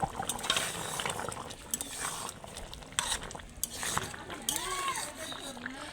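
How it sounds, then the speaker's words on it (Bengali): Chicken roast curry with fried meat is stirred gently in a pan, soft scrapes and clinks of a spoon against the pan, with a voice talking briefly underneath. "আস্তে আস্তে ধীরে ধীরে নাড়তে হবে, যাতে মাংসটা ভেঙে না যায়।"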